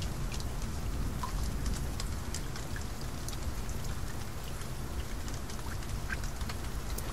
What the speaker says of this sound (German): Und es regnet natürlich immer noch.